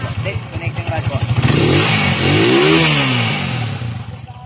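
A Yamaha TMX motorcycle engine with a worn connecting rod idles with a rapid knocking clatter, then revs up loudly and settles back, heard up close with someone talking over it.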